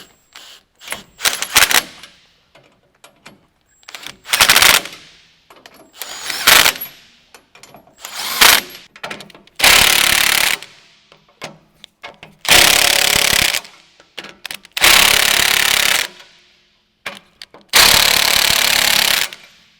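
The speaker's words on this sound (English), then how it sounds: "Now we're ready to go ahead and tighten down the shackle bolts." Power impact tool tightening shackle bolts during a 2.5-inch lift kit install on a 2007-2019 Sierra or Silverado 1500 truck: loud, close rattling bursts, short and choppy at first, then several long sustained runs separated by pauses.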